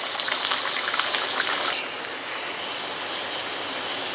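Pinwheel samosas deep-frying in oil over a medium flame give a steady, close hiss of bubbling with fine crackles, no voices.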